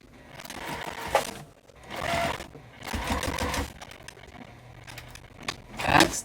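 Sewing machine back stitching on a tote bag made from jellyroll fabric strips, running in several short whirring bursts with brief pauses between, moderately close and steady.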